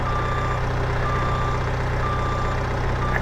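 Reversing alarm of a John Deere telehandler in Farming Simulator 22 on a Missouri farm: evenly spaced beeps over a steady, loud engine hum, with no voices.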